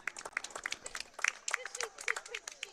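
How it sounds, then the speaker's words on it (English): Scattered applause at a soccer match as a substituted player leaves the field, light sparse clapping from a small crowd, fairly faint and distant, with voices mixed in. "Round of applause for number 2, Zachary Dudick, subbing off."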